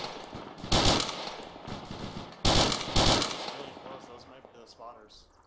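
Two loud bursts of automatic gunfire crack out in a video game military mission from a Soviet perspective, each volley ringing briefly before fading into background game noise.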